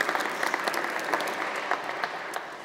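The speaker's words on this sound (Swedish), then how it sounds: "Du kan få en applåd till." An audience at a Telia Talks panel event in Stockholm gives steady, moderate applause, a continuous patter of many hands clapping at medium distance that holds through to the end.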